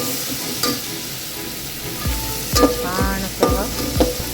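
Masala fries in hot oil for a fish curry, a constant close sizzle punctuated by several sharp scraping and clanking stirs of a spoon against the pan.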